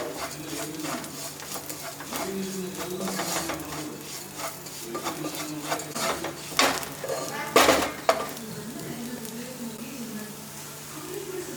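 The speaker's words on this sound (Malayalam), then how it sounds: "നന്നായി ഇളക്കി കൊടുക്കുക" A spoon stirs mirchi chicken roast with spices in a metal pan, giving irregular scraping and clinking strokes over a soft sizzle and low hum, with a couple of louder clanks near the end and a faint voice at times.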